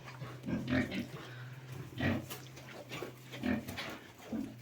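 Newborn piglets grunting softly during a sow's farrowing on a farm near Kolomyia, a series of short snuffling grunts over a steady low hum.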